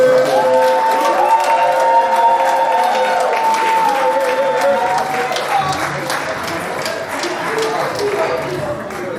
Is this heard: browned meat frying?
no